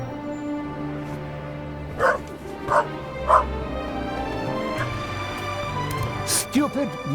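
A dog barks and yips three times in close succession, then gives a further burst of barking moments later, with low voices and background sounds from a game underneath.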